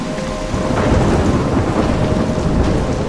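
A thunderstorm rolls through the video game Life Is Strange, with loud low rumbling thunder over constant heavy rain, a dense and close roar that swells after a brief quieter start.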